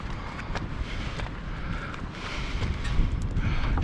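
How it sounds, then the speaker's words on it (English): Strong wind buffeting an outdoor microphone during street scrapping, a continuous loud low rumble with gusts swelling and easing, alone with no talk. "Strong wind. Hope it's not wrecking the audio"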